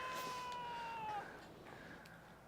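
A pet cat named Kitty gives one drawn-out meow that slides slightly downward in pitch, fairly close, over a low background hum before fading into quiet room noise.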